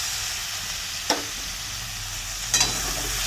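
Spices with ginger, cumin, coriander and garlic sautéed in a pan, a steady close hiss with two brief scraping stirs, no voices.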